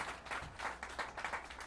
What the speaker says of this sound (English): let's give our great governor, Kathy Hochul, a big round of applause